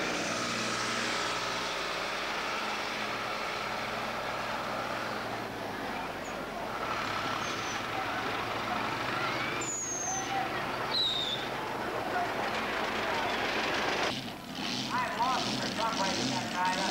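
Mini tractors pulling a weighted sled at a 1987 NTPA tractor-pulling event in the USA, wheels spinning, a loud sustained engine roar with squealing tones, running steadily under a voice.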